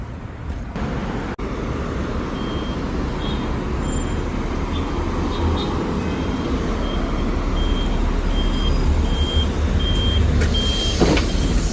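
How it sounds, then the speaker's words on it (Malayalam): A Karwa city bus in Doha draws near from a distance, a steady low engine rumble and road noise building slowly, with a repeating high electronic beep running through and a brief louder swell near the end. "ബസ്സതാ മക്കളെ ദൂരേന്ന് വരുന്നതാണ്"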